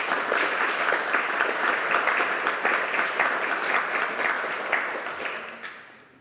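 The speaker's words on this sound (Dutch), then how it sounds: "En nog één keer heel groot applaus." An audience applauds at the close of a Freedom lecture, a full, sustained round of clapping from many people that gradually tapers off and stops.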